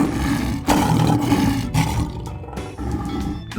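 A lion roars: a deep, rough, powerful call that swells and pulses over a few seconds, close and loud, with no talking.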